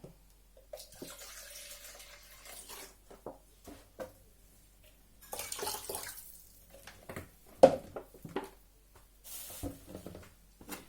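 Water and 9% vinegar poured into a container for a cabbage marinade, intermittent splashing and trickling pours with quiet pauses and a brief clunk, close and fairly soft.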